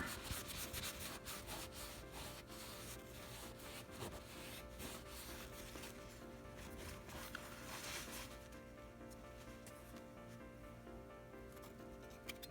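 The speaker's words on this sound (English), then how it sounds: "So now we'll just rub this off and we'll see where we're at." Steady close rubbing of a cloth buffing polish off a Shopsmith emblem, a continuous soft scrubbing texture at low level with no talk.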